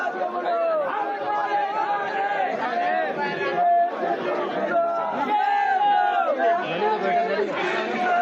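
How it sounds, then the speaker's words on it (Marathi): A crowd of farmers celebrates in Nagpur, a dense, loud babble of many voices shouting and cheering together without pause, close and continuous throughout. "नागपूरमध्ये आता शेतकऱ्यांच्या वतीने हा जल्लोष केला जातोय"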